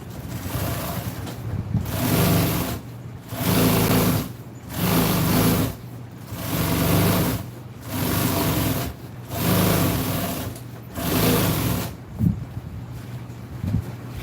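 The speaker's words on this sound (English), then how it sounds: "The sewing machine drags it as I'm going through here." A sewing machine stitching seat upholstery for a 1974 Ford F-100 runs in repeated bursts of steady motor hum and stitching, about two seconds each with short pauses between, close and fairly loud.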